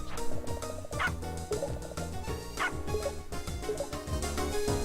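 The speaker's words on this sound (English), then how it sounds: "Cute little dog, right?" Small puppy yapping in the Shantae: Risky's Revenge video game, short barks popping up at intervals over busy, loud game music that plays throughout.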